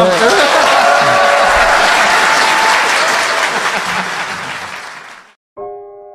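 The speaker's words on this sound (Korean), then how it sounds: "박수 부탁드립니다." A studio audience claps steadily at a Korean talk show recording, the full applause holding loud for about five seconds and then fading, followed by a brief musical tone.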